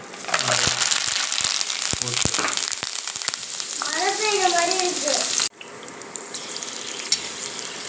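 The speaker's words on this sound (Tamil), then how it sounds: "நம்ம பக்கடா பொறிச்சு எடுத்துட்டு" Onion pakoda sizzles steadily in hot frying oil, a dense crackling hiss with a few sharp clicks and a brief voice-like warble partway through, before the frying drops abruptly quieter near the end.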